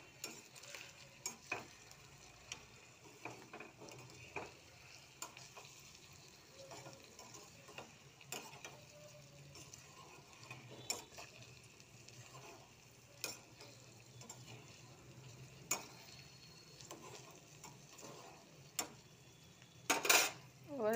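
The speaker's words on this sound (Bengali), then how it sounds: "মশলাটা একটু মিক্সড করে নিই।" Spice mix stirred and fried in a pan, a low steady sizzle under scattered light scrapes and clinks of a spoon against the pan, building to a louder burst of stirring at the end.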